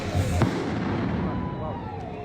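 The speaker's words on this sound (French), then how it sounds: "il y a un très très gros pétard qui a été" A very large firecracker goes off under a garage with one sharp, heavy bang early on, followed by a long rumbling reverberant decay and low background murmur.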